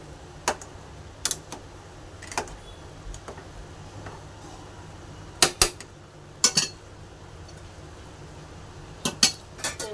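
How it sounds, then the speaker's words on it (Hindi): Pots, pans and utensils clatter in a home kitchen while food cooks: scattered sharp metallic clinks and taps, some in quick clusters, over a low steady background hum. "तो यहाँ मेरा खाना बन रहा है तो उसकी भी आवाज़ थोड़ी आ रही होगी बर्तनों की"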